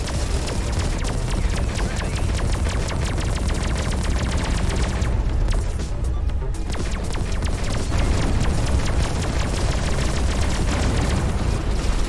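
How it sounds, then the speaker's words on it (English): Ghost cannon weapon from the space combat game Everspace 2 firing continuously, a dense, loud stream of rapid crackling shots and booming impacts with only a brief dip midway and no talk. "This ghost cannon is just tearing through things."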